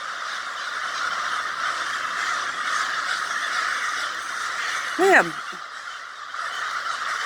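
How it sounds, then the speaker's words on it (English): Birds gathering in a flock outdoors: one loud, harsh cawing call stands out over steady background noise, and a person says a brief word nearby. "Oh my God, the birds!"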